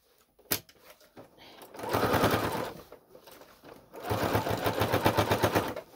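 A sewing machine runs in two sustained bursts of rapid mechanical stitching as it top-stitches Velcro onto a lunch bag, with a brief pause between runs.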